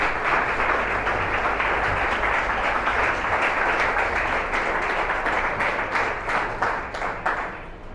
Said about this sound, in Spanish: Dar un aplauso al Espíritu Santo de Dios.